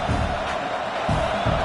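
Stadium crowd noise in a football video game, a steady wide roar of cheering that swells in short bursts over a constant background din.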